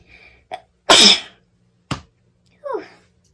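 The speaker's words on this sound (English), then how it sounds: "I'm gonna sneeze." A single sharp sneeze bursts out loudly up close, followed by a short breathy sound and a small throaty noise after it.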